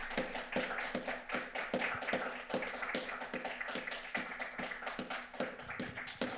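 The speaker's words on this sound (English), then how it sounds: "And then warm applause to our four." Audience applause rings out for a group of four at an online IoT community event, a steady dense patter of many hands clapping together, close and lively, continuing for several seconds without voices.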